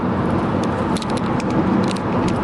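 A car on a morning commute, heard from inside: a loud, steady broadband road and engine rumble with faint rattles, constant throughout and with no talking.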